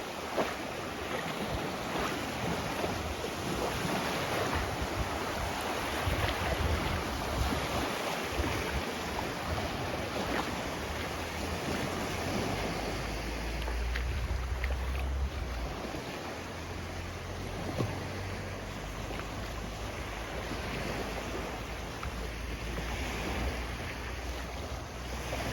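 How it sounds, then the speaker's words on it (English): Surf washing onto Sairee Beach in Chumphon, Thailand, heard as a steady, fairly loud wash of waves with low rumble and wind buffeting the microphone throughout, with no voices. "You're on this beach, you hear the waves."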